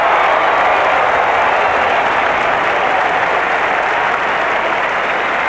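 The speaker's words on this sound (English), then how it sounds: "Chris Scott, the best and fairest, brings the crowd to its feet early." Stadium crowd at an Australian Football League match between Brisbane and St Kilda in 1999 cheering and applauding a goal, a loud, dense and continuous roar of clapping and shouting that holds steady throughout with no talk above it.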